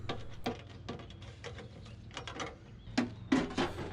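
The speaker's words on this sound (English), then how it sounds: "I'll crimp the elbow just a little bit more" A metal gutter downspout elbow being crimped with a hand crimper, a series of sharp clicking and crunching squeezes, spaced irregularly and close by, with quiet pauses between.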